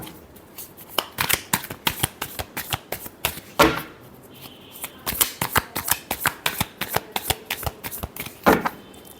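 A deck of tarot cards is shuffled by hand in quick, crisp riffles and slaps, a steady run of sharp papery bursts at close range with a few louder flicks, with no talk.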